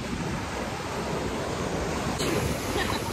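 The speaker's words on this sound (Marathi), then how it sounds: "लाटा कसल्या भारी आहेत" Ocean waves break on Chennai beach in a steady, loud wash of surf with wind buffeting the microphone, and a fresh surge rises near the end.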